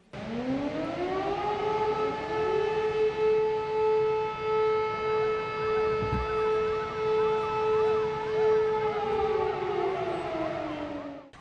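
Civil defense alarm siren sounding for an ammonia leak drill at a chemical plant: one loud, sustained wailing tone that holds steady and swells slightly in pitch before fading at the end.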